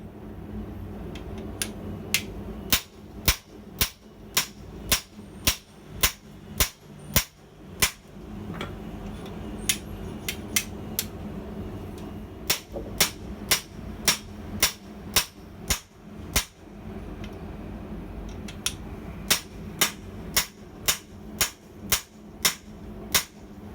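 A guillotine tool clamped in a freestanding post vise struck by a hammer, giving a long series of sharp metallic blows in irregular bursts with short pauses, close and distinct over faint room noise.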